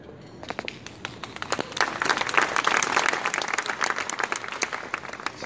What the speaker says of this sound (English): lots of claps.